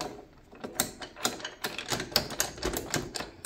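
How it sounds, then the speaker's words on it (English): An Allen bolt is backed out of the rear fender of a Kawasaki Ninja 500, giving a close, quick run of dry metallic ratcheting clicks in irregular bursts with no talking. "we're gonna remove this last Allen bolt, or at least we're gonna back it all the way out"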